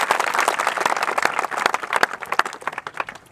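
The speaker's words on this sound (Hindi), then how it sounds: "एक बार जोरदार तालियां।" Dense, lively applause from an audience at a Raksha Bandhan gathering, a fast flurry of many hands clapping close by that swells and then gradually thins out toward the end.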